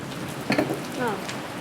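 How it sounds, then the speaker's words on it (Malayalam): Steady rain patters in the background while people talk briefly over it. "എന്തൊരു നശിച്ച മഴയാണെന്തോ."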